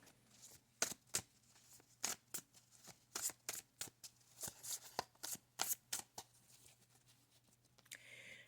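Playing cards shuffled for a card reading: a run of about twenty crisp riffling bursts in quick, uneven rhythm, close and fairly quiet over a low steady hum, with no talking.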